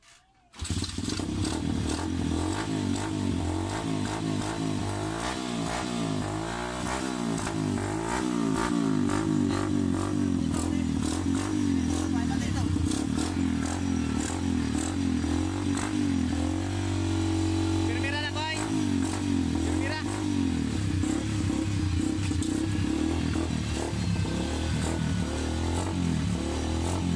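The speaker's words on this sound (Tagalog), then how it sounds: "umandar na ang motorsiklo na to" Old, long-neglected motorcycle with a carburetor needing adjustment catches after a starting attempt, then runs with a rough, loud buzzing idle and several throttle revs rising and falling, close up and continuous.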